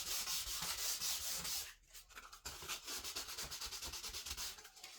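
Sandpaper is rubbed by hand over a wooden cutting board in quick, rhythmic back-and-forth strokes. It is close and crisp with a brief pause midway and no talking.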